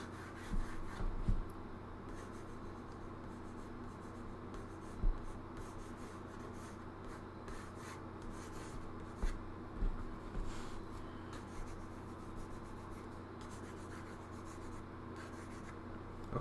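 Pencil sketches a comic page background on paper, soft scratchy strokes and rubbing in an intermittent rhythm, close and quiet with occasional taps.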